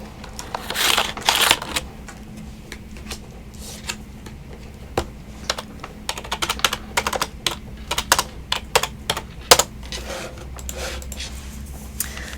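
Keys clatter in a steady run of quick, close taps on a computer keyboard at a New York Public Library desk, bursts and pauses with a soft room hum underneath.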